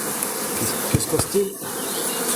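A swarm of honeybees hums densely and continuously outdoors at an abbey, a loud buzzing wash with a brief voice speaking over it.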